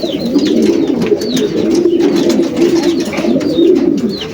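Young racing pigeons coo steadily at close range, a dense overlapping chorus of soft throaty burbles with a few higher chirps mixed in, loud and continuous without any talk.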